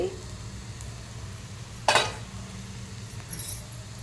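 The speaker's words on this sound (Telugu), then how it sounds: "జీలకర్ర ఉల్లిపాయలు వేపుతున్నానండి" Cumin seeds and onions fry in a pan with a steady low sizzle, broken by one loud scraping clatter of a spatula midway and a lighter rattle near the end.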